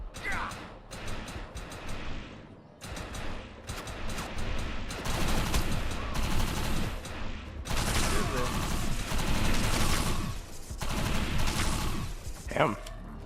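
Gunfire in the online shooter Defiance, dense bursts and crashes layered over game music and effects, loud and continuous for most of the stretch, with talk mixed in.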